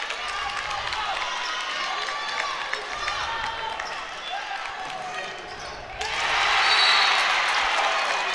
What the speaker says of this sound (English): Some great fan base here from O'Hara cheering on their the girls' team